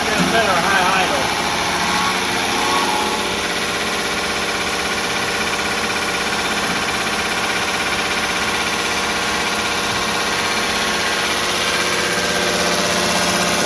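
Minneapolis Moline G950 tractor diesel engine revving at high idle, a loud steady drone with constant pitch and vibration, running close and continuous throughout.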